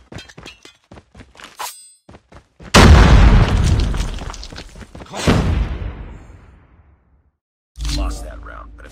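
A grenade detonates in a Call of Duty: Mobile match with a sudden loud boom that rumbles and decays, followed by a second burst, after a few short clicks and clatters, with voices nearby.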